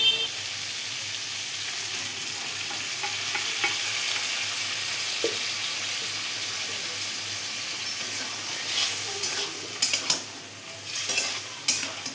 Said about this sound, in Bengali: এবার আমি মটর দিয়েও খানিক নেড়ে নিয়েছি